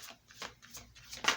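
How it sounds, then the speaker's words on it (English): Tarot cards being shuffled by hand, with a few soft papery riffles and flicks spread across a quiet moment, the last one brighter and louder. "as I'm shuffling"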